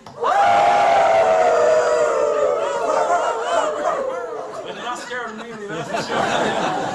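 Crowd of audience members imitating a howling hound dog, voices rising into a long sustained howl that wavers and breaks into laughter and chatter, loud and close.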